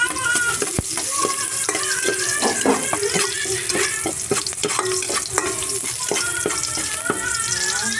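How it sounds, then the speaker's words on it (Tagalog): Garlic and onion sautéing in a pan for pork steak, a close crackling sizzle broken by frequent spatula scrapes and clanks of stirring. "Magigisa lang tayo ng bawang sibuyas"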